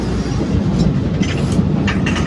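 Leadville railroad train in Colorado being pushed uphill by its locomotive, wheels beating a steady clickety-clack along the rails with a continuous rumbling rolling noise and faint metallic squeals, no voices.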